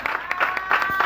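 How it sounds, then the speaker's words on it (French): Steady applause from an audience at a church thanksgiving service, a dense wash of many hands clapping at moderate volume through the whole moment. "Laetitia Lola, que nous allons applaudir."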